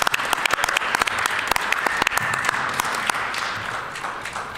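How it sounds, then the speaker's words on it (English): A legislative House chamber full of people applauds, with sharp, rapid claps forming a steady, lively burst that slowly eases toward the end. "provide a little round of applause for my wife as well"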